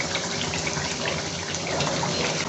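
Water is poured from a grinding jug into a cooking pot of Hyderabadi baghare baingan (eggplant curry), a steady close gushing pour that runs throughout with no talking.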